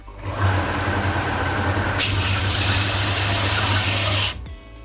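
Electric motor humming steadily with no overload protection, a continuous loud drone with a low hum and a brighter buzzing layer that rises partway through, then cuts off abruptly near the end.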